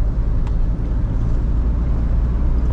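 A Volkswagen T4 van with a 2.5 TDI diesel engine drives along, its engine and road noise a steady, loud low rumble from inside the cab with no pauses.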